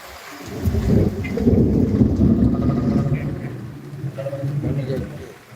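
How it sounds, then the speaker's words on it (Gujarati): Heavy rain pours down in Surva village with rolling thunder, a loud, dense, close wash of rain under a deep swelling rumble that fades and then returns, with no voices. "હવે આવ્યો વરસાદ મિત્રો જોરદાર વરસાદ છે"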